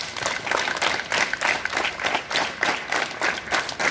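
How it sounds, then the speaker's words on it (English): Group of people clapping hands in a rhythmic series of claps during a school drill exercise, about ten even, moderately loud claps with crowd murmur underneath. "Clap your hands."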